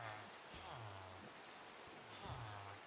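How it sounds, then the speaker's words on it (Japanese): Steady rain hiss in the Minecraft video game, faint and even throughout, with soft tonal game sounds drifting underneath. "雨が降ってきちゃったね。"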